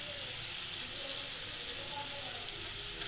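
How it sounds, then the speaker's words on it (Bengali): Papaya and potato pieces fry in a kadai with turmeric as they are stirred, a soft continuous sizzle with faint scraping that holds steady throughout, fairly quiet and close. "দিয়ে আবার একটু নেড়ে চেড়ে ভাজা করে নেব"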